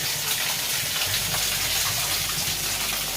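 Water flows inside the bathing area of Binsar Mahadev temple: a steady, loud, hissing gush that holds an even level throughout with no pauses and no voices.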